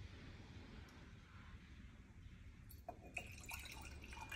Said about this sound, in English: So here I take half cup of water